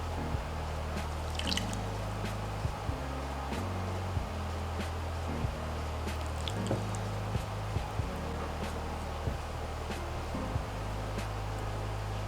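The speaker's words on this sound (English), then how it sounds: "I first pour a tablespoon of instant snow and then activate it with regular water." Water poured onto instant snow powder to activate it, giving soft wet drips and little squishing sounds scattered over a steady low hum. The sounds are close but faint.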